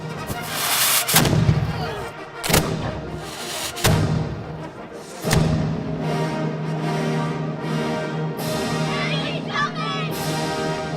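Historical cannons fire at Fort Ticonderoga: four loud, booming blasts spaced a second or two apart, each trailing into a rolling echo, followed by a lingering low rumble and crowd murmur.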